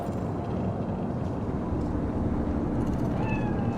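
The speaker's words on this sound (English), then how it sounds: "Fine-looking feline. Thought they'd all disappeared from the city." A cat meows on a Night City street in Cyberpunk 2077, a faint call sitting over a thick, constant bed of city background noise.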